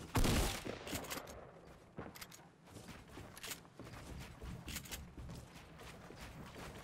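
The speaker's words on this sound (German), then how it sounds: "Und zusätzlich werden sie von den Seiten noch überall angeschossen." Video game shootout gunfire in a one-on-one build fight, with a loud opening burst and then rapid, repeated shots crackling from several directions at low overall level.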